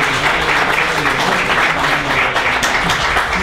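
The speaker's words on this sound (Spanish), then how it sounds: "un aplauso para él" An audience at a talk on the Spanish Second Republic applauds for a speaker's birthday, a dense, loud, sustained wash of clapping from many hands with no pause.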